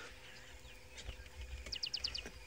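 An African fish eagle calls from the distance on safari, a quick series of sharp yelping notes in a rising burst, under faint ambient noise and low rumbles.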